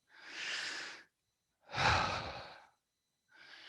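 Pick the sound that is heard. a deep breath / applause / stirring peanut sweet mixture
a deep breath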